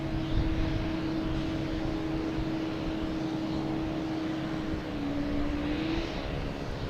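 A Southwest Boeing 737-800 arriving at Boston Logan drones steadily overhead, a sustained engine roar with a whining tone that holds and shifts slightly, fairly loud and unbroken.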